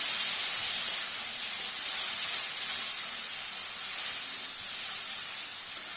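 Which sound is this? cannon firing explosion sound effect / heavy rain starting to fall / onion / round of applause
onion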